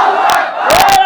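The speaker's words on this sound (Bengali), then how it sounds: "তাকবীর দে একটা।" A crowd at a religious gathering roars a takbir in unison, a loud sustained chant of many voices with a brief dip and a second swell, close and dense.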